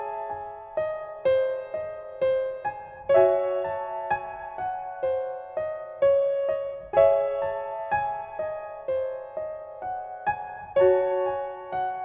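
An unquantized piano melody in FL Studio plays with uneven, slightly rushed and dragging note timing, close and clear, with no voices.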